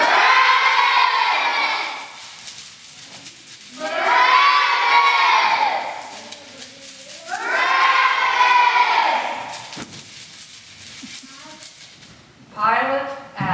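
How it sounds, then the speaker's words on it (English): A large crowd shouts in loud, sustained waves, three big bursts of massed voices separated by brief lulls, during an outdoor Easter prayer walk reenactment of the Passion. "Again, the crowd shouted, "Barabbas!"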